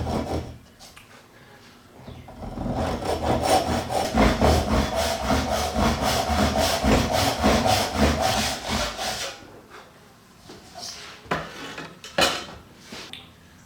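A hand saw cuts a houndstooth dovetail joint in wood, a rhythmic rasping of quick back-and-forth strokes, loud and close for several seconds, then slowing to a few scattered scrapes and taps, with no talking.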